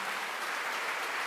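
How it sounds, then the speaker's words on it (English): An audience claps at a talk in an ashram, a steady dense spatter of applause filling the whole moment with no voice over it. "Don't clap, that's not going to be good"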